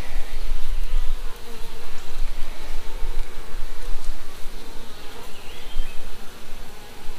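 Dense, continuous buzzing of many honey bees at a hive, close and loud, with a steady swarming hum and no voices.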